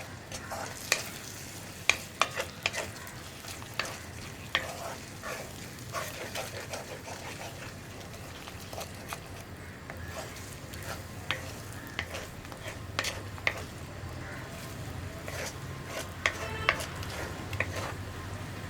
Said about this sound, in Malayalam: ഇനി ഇതൊന്ന് ഹൈ ഫ്ലെയിമിലേക്ക് ആക്കിയിട്ട് ഒന്ന് ഇളക്കി മിക്സ് ചെയ്തെടുക്കുക